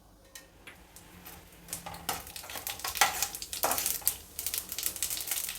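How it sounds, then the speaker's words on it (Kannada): Mustard seeds, urad dal and chana dal hitting hot oil in a pan, a crackling sizzle that builds into dense popping and spattering with occasional scrapes of a stirring spoon. "ಎಣ್ಣೆ ಬಿಸಿಯಾಗಿದೆ. ಸಾಸಿವೆ, ಉದ್ದಿನಬೇಳೆ, ಕಡಲೆಬೇಳೆ ಎರಡೂ 1 ಟೀ ಸ್ಪೂನಷ್ಟು ಹಾಕಿದ್ದೀನಿ."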